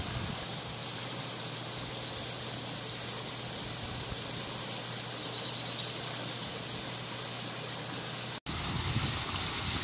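Water running steadily from a hose while a clover grass polyculture lawn is watered, a constant hissing, splashing flow heard close, with one brief break near the end.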